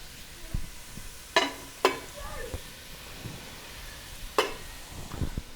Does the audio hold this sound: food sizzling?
yes